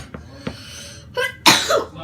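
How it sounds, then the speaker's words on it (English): One person gives a short, sharp cough or sneeze-like burst, close and loud, after a couple of quieter breathy sounds indoors. "I was coughing."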